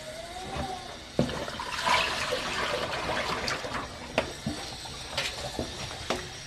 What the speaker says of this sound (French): Je vais juste rincer en pinceau.